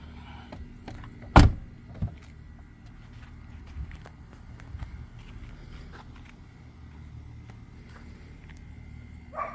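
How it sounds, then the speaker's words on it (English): A single solid thunk as the door of an orange-repainted Audi R8 is shut, close and sharp, followed by faint light handling noises in an otherwise quiet setting. "Let's get this door shut."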